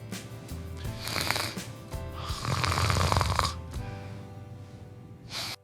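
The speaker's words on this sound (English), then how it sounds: "but you snore" Loud, rasping snores from a sleeper with possible sleep apnea, several heavy rattling breaths in an irregular rhythm, close and without talk, ending in a sharp snort.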